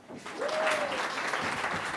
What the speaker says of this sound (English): Oh, don't stop clapping.